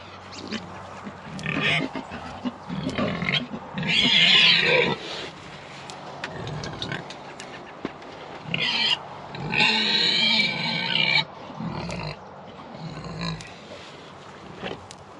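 An Idaho Pasture Pig boar and breeding sows grunt, squeal and snort in a rowdy first meeting. Loud bursts of squealing come in waves over a steady grunting background, with a voice talking at times.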